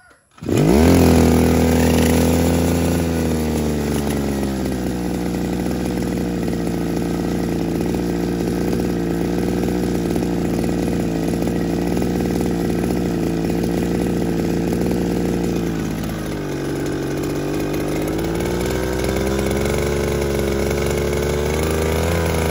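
A small engine, like a grass cutter, starts up and runs loudly and steadily nearby, its pitch dipping briefly before settling back.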